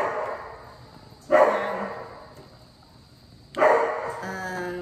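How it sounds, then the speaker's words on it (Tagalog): Household dog barking in a kitchen during cooking, two separate bursts of barking about two seconds apart, moderately loud and fairly close, with quiet room noise between. "Yung aso po namin tumatahol."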